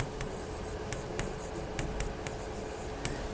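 Pen writing on paper while a math problem is worked out, a close, steady scratching with short quick strokes and small taps repeating through the clip, no talking.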